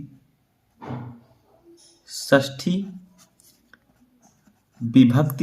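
A pen scratches across paper while someone fills in a Hindi board exam answer copy, with short intermittent bursts of writing strokes between stretches of someone talking.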